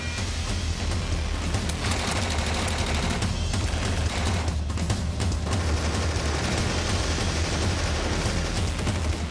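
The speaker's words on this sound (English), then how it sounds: "The air echoed with gunfire" Dense, continuous gunfire crackles and booms loudly, with overlapping rapid shots and bursts filling the whole stretch, during a commando attack on a villa in Italy.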